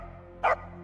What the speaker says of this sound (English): Another cute doggy.